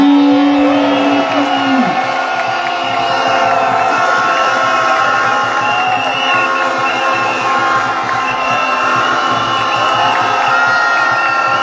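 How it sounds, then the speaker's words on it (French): A crowd at an outdoor political rally cheers and shouts loudly and steadily throughout, with whoops and voices blending into a dense roar of partisans. "Je vous prie d'applaudir"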